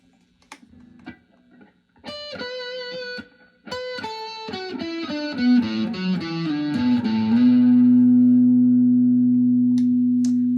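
Distorted electric guitar, an Epiphone ES-355 semi-hollow body: a few muted picks, then a fast descending run of heavy notes that slides into a long, loud sustained growl.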